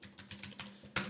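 Quick keystrokes on a computer keyboard tap out a short burst of about six clicks in an uneven rhythm, close and fairly quiet, ending with a sharper final press.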